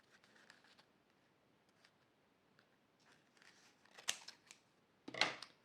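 Snips of a pair of worn, cheap scissors cutting open small packaging, faint and intermittent, with two sharper, louder cuts near the end.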